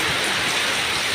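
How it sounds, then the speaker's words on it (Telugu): Heavy rain pours down during a days-long monsoon downpour, a dense, steady hiss of drops hitting surfaces, loud and unbroken with no voices. "వర్షం చూడండి, మామూలుగా లేదు వర్షం."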